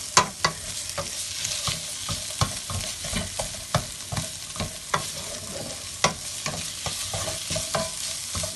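Diced ginger and garlic sizzle in a pan while a spoon stirs them, giving repeated sharp scraping clicks over a constant frying hiss, close and moderately loud with no talking.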